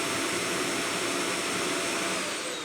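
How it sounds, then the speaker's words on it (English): A vacuum cleaner runs steadily and loudly throughout, a dense broadband whooshing roar with no pauses and no voices over it. "I'm talking now with the vacuum on and off."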